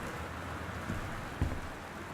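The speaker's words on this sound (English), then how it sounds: "And it's raining, which is typical." Steady rain falls in the video game Gone Home, a soft continuous hiss at low level with no talking, broken only by a couple of faint thumps.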